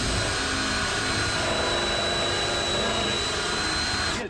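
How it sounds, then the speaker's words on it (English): A drill bores through the metal shock absorber mount on a 1967 Dodge Coronet being overhauled, giving a continuous high whining grind, close and steady, that cuts off at the end, with no voices. "Drilled through, and now it's even the right size to fit the hardware that I think we're going to want to use through it."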